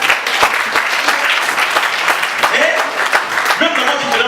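A church congregation at a Sunday service claps loudly and steadily in acclaim, with voices calling out over the applause.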